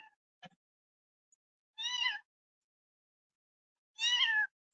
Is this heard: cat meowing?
yes